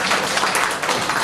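An audience at a live show claps in a dense, steady burst of applause, close and loud, lasting only a moment.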